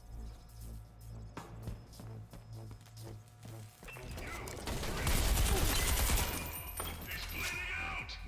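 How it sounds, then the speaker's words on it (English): Grenade launcher fire in the boomer shooter Selaco, heavy blasts and crackling explosions building through the second half over game background music, fairly loud and continuous. "Didn't realize that was a grenade launcher."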